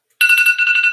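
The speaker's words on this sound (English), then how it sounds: "that's my alarm telling me to do my live" A phone alarm rings out suddenly after a moment of silence, a bright repeating electronic warble that pulses rapidly and loudly, alone with no talking.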